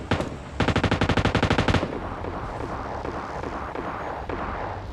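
A rapid burst of Tommy gun fire in PUBG Lite, about a dozen evenly spaced loud shots, then a busy lower rumble of distant action and engine noise.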